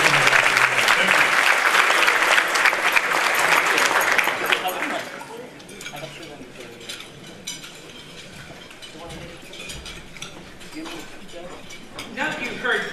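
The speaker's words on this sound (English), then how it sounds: "Let's give her a round of applause." Audience at a women's event gives a round of applause, a loud wash of clapping for about four seconds that drops sharply into light scattered claps and quiet room noise, with a voice speaking under it.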